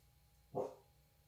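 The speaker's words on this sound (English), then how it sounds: "Sorry, my dogs want my attention." A dog indoors gives a single short bark, faint and somewhat distant, against quiet room noise.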